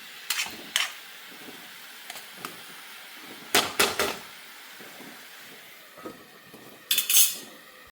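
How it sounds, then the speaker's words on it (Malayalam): Onions stirred in a pot with a few scattered metallic scrapes and clinks of a spoon against the rim, then a louder clatter as the lid is set on, in a quiet kitchen. "അല്ല അപ്പം ഞാൻ ഇളക്കി അടയ്ക്കാം"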